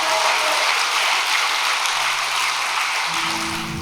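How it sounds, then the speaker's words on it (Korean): Applause of grateful congregants at a Korean overnight devotional gathering, a steady hiss of many hands clapping that stays even and fairly loud, tapering slightly as tones of music begin near the end. "정말 감사의 박수를 보내주시면 좋겠습니다"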